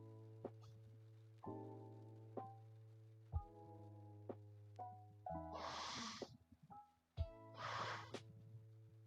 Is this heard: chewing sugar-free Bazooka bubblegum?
no